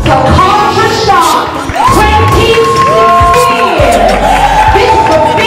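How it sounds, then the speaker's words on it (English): An audience at a live Contra Shock show in Atlanta cheers and whoops loudly, a dense crowd roar with shouting voices cutting through, continuous for several seconds. "just give a round of applause to Contra Shock"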